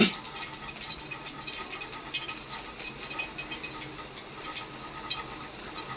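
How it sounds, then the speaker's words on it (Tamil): A thin stream of cooking oil pours steadily into a pan with faint trickling and a few light ticks, fairly quiet and close, with no voices. "இப்போ எண்ணெய் ஊற்றிக்கலாம்"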